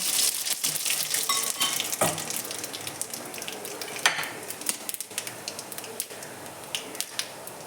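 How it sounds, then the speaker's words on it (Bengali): Cumin and radhuni seeds fry in hot oil for bottle gourd with prawns, making close, crackling sizzles with scattered stirring clicks and pops that gradually thin out, with no one talking. "এই যে জিরে আর রাঁধুনি আমি বেশ অনেকটাই নিয়েছি এটা আমি তেলের মধ্যে নিয়ে নেব"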